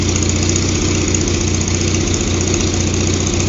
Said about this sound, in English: Is that our hydraulic system?